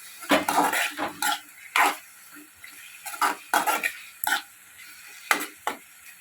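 A spoon scrapes and clanks in a pan while banana flower and tomatoes sauté, irregular metallic knocks and scraping strokes, close and fairly loud, with a faint sizzle underneath.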